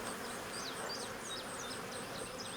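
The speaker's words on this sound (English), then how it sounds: "The bees are just like everywhere, y'all." Honey bees swarm and buzz around an open hive being smoked, a steady dense drone with individual bees zipping past close by, no talk.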